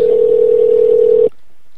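A Skype call tone, a single loud steady electronic beep holding for over a second before cutting off abruptly into near silence, with no voices.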